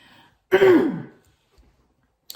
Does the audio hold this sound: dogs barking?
no